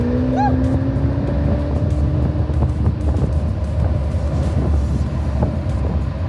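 A Ferrari Portofino's exhaust drones loudly and steadily on a road drive on the Mornington Peninsula, with the engine note rising in pitch as the car pulls.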